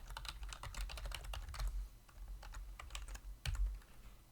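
Rapid typing on a computer keyboard in a lecture setting, with steady clusters of close key clicks and brief pauses between bursts, no talking.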